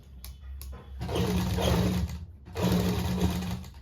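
A sewing machine stitches a suit with a single presser foot, running in two loud, steady bursts separated by a short pause, close up.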